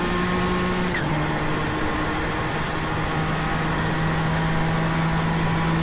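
Race car engines scream steadily in an iRacing Group C sportscar race at Watkins Glen, a sustained high-pitched roar with a brief shift in pitch near the start, loud and continuous without talk.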